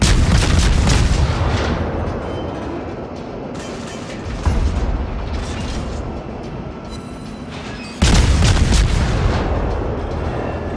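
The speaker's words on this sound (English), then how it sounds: "Doing volleys at this ship" Naval gun volleys from the USS Victrix in World of Warships boom out as dense, loud cannon blasts, a heavy rolling barrage at the start and a fresh salvo striking again near the end, with rumbling between.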